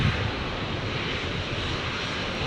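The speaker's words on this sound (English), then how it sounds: "aircraft on final" An airliner on final approach at Brisbane International Airport roars in a steady, dense broadband rush that stays loud and constant throughout, with no voices.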